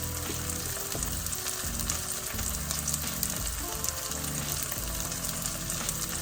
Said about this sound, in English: I can go ahead on and put our onion, our garlic in here too. We can get our garlic going.